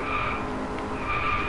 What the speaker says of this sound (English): Oh wait, I'm supposed to drift.